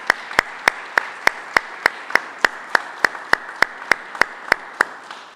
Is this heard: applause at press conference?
yes